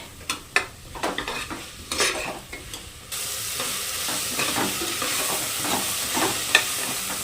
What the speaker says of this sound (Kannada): ಈರುಳ್ಳಿ ಜೊತೆಗೆ ನಾನು ಟೊಮೆಟೊನ ಹಾಕ್ಕೊಳ್ತಾ ಇದ್ದೀನಿ ಇದು ಸ್ವಲ್ಪ ಒಂದು ಕಾಲು ಭಾಗದಷ್ಟಾದರೂ ಫ್ರೈ ಆಗಲಿ